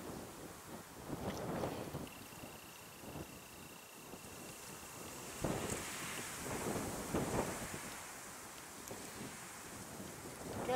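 Gusty wind buffets the microphone in rumbling bursts that swell and fade, with a faint steady whine in the background, outdoors at a long-range shooting position.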